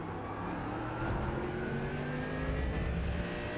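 A Mercedes GT3 race car engine in iRacing at Spa, held at a steady smooth drone with gradual throttle, medium-loud and unbroken, with no speech.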